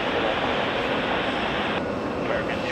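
An airliner taxis on the ground at JFK airport, its engines giving a steady, loud broadband roar with a jet whine that holds throughout and shifts slightly near the end.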